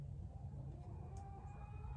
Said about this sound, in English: Do y'all hear the chickens?